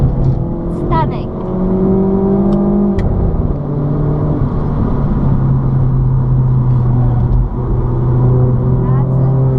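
A car lapping Zwartkops race track drones steadily from inside the cabin, its engine note rising and falling, while an instructor talks over it.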